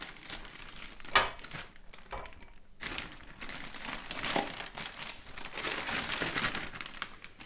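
Plastic packaging of a bag of Aldi onion rings is cut open close by, giving crinkling and rustling with a sharp snip near the start, then continued crackling plastic handling.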